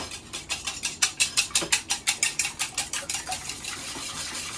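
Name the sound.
beating eggs in a bowl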